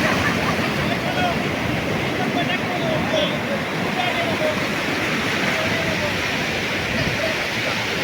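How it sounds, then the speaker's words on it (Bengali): Large sea waves break on the beach at Cox's Bazar, a steady, broad roar of surf that carries on without pause, fairly close and evenly loud. "এটা একটু বড় ঢেউ"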